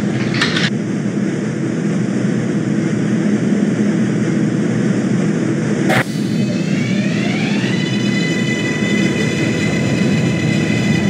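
New York 6 subway train running in the OpenBVE train simulator game, a loud steady rumble of wheels and motors with a sharp click near the middle followed by a rising electric motor whine as the train accelerates.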